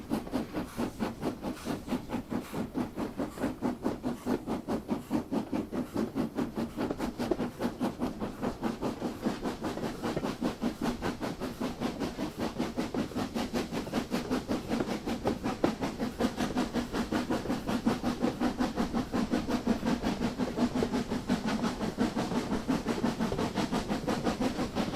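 A model King Arthur class locomotive with 40:1 gears, a 1001 motor and an etched brass chassis runs steadily, giving a rapid, even clicking rhythm over a continuous motor whir, close and constant, with no talk.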